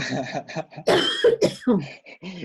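A person coughs several times in quick bursts, mixed with speech and throat clearing.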